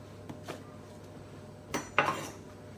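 A knife cuts through an onion on a kitchen board, a few sparse quiet knocks and a sharper clack near the end, with no talk.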